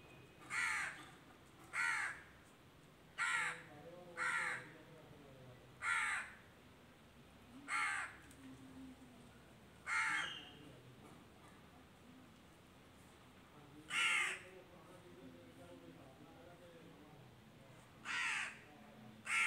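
A crow caws repeatedly, about a dozen sharp calls spaced a second or two apart, fairly close, over quiet background.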